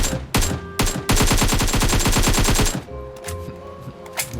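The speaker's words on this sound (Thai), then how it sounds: "ฝึกเดาระยะของเสียงปืนด้วยนะ" Loud automatic gunfire rattles in PUBG Mobile in a long rapid burst, preceded by a few single shots, then trailing off into scattered distant pops.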